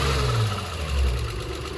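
A three-year-idle Acura Legend Coupe engine runs at a steady idle, a low, even hum with slight swells in level, close by and alone with no talk.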